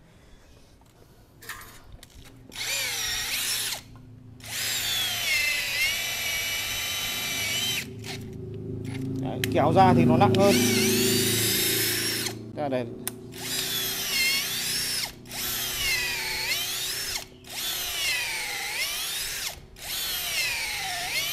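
A 16V cordless drill runs in repeated bursts, whining up and down in pitch with short pauses between, close by, while someone talks briefly in the middle.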